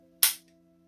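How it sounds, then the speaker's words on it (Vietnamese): Dry-fire trigger pull of a Desert Eagle .50 AE pistol, a single sharp metallic click near the microphone, quickly fading over a faint steady background hum. "đây là bóp cò."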